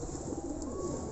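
Pigeons coo softly and low amid a faint, steady background hum, their murmuring calls blending together close by.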